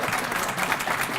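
An audience applauds at a 2016 State of the City address, a dense, steady patter of many hands clapping throughout this short stretch.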